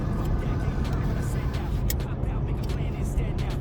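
A car rolls along a road during a brake test, with constant low engine and tyre rumble and a bit of wind noise. A voice can be heard faintly over it.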